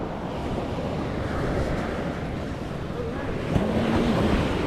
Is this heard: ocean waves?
yes